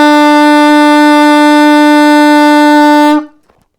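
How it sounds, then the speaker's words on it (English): An alto saxophone holds a single steady B, fingered with one left-hand finger, loud and close for about three seconds before stopping abruptly. "The first one finger."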